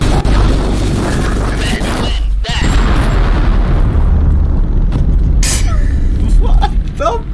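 A loud, booming ion cannon explosion in Totally Accurate Battlegrounds rumbles through dense game noise, with heavy low-end energy and a brief dropout before the blast rolls on.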